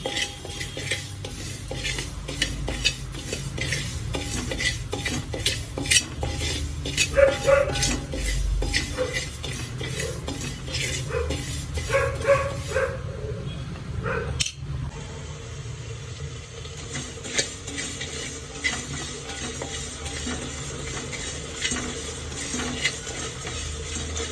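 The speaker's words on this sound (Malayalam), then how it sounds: "നല്ല പൊട്ടുന്ന വരെ വറുത്തെടുക്കണം" One and a half cups of rice dry-roasting in a pan, with steady scratchy stirring and light rattling of grains against metal, a brief pause midway, then continued scraping.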